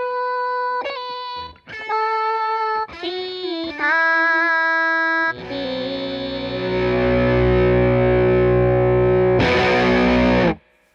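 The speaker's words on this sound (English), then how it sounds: "You might want to blend an overdrive with a fuzz and get all the sounds in between" An electric guitar runs through an overdrive and a fuzz pedal blended in parallel by a TheGigRig Wetter Box, with distorted riffs and short note bursts, then a thick, sustained fuzzy chord and a final loud stab.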